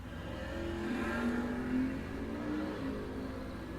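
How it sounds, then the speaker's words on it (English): Fox body Mustang drag car launching against a Chevelle at a drag strip bracket race, a distant engine roar that rises in pitch as it revs and accelerates, then tapers off, with no voices over it. "watch the little Mustang Fox body getting ready to leave over there on the Scott Electric side of the racetrack up against Rex Howell's Chevelle"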